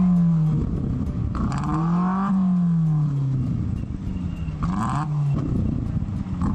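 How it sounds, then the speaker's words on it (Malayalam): Modified car with a loud fire-spitting exhaust, the engine revving up and dropping in repeated droning sweeps with crackling bursts, close and loud. "പുകക്കുഴലിൽ നിന്ന് തീയും വലിയ ശബ്ദവും പുറത്തുവരുന്ന വാഹനമാണ് പിടികൂടിയത്."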